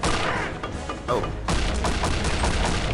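A grenade explodes in the World War II shooter Return to Castle Wolfenstein, a loud burst followed by rapid gunfire and rumbling blasts that fill the whole stretch with dense, close-up noise.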